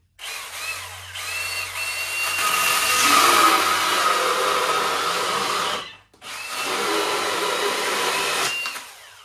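Milwaukee M18 top handle chainsaw cutting under heavy load, a loud, steady high-pitched motor whine that bogs slightly, drops out briefly near the end, then resumes cutting.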